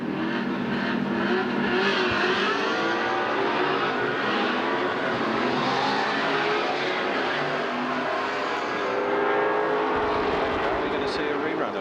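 Racing cars from a 1979 AMSCAR touring car round at Amaroo Park roar together as they accelerate at the start, a dense, loud, sustained engine drone with a commentator talking over it.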